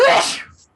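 A single sharp sneeze bursts out loud and close, its breathy spray trailing away within about half a second, with room tone left behind.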